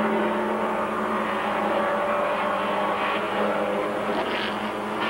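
Porsche 944 race cars from a 1986 Canadian Rothmans series howl around the track in a tight pack, a steady, dense engine drone with rising and falling pitch as they pass, no voices.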